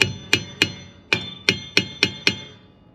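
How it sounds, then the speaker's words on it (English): Eight sharp hammer strikes on a wrench or socket and ratchet during brake work on a 1999 Ford F150, ringing briefly after each hit, spaced unevenly and loud at close range. "a wrench or a socket and ratchet with a hammer"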